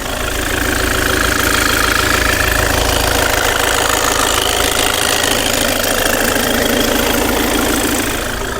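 A 2021 Škoda Octavia Scout engine idles loudly right up close, a steady, throbbing mechanical rumble with a faint ticking rhythm and no voices.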